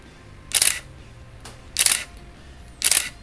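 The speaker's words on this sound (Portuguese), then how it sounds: "você escuta o barulho do obturador" A Canon EOS Elan 7E film camera fires its shutter at 1/4000 three times, each a crisp, close mechanical snap about a second apart, with quiet room tone in between.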